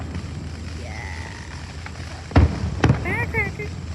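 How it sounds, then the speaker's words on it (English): Fourth of July firecrackers go off outdoors as two sharp, loud bangs about half a second apart, with crackling tails and lingering rumble, while people talk in the background. "Firecracker."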